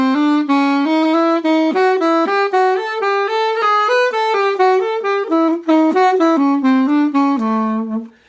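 A trumpet plays a smooth run of connected notes, with only the even-numbered notes tongued, so the line flows legato and moves up and then back down, clear and close with no voices.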